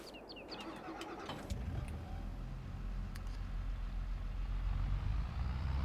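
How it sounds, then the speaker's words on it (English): A tractor engine in Farming Simulator 22 starts up and settles into a steady low rumble that grows slightly louder, with a few faint bird chirps early on and no talking. "Let's get in the tractor and do this."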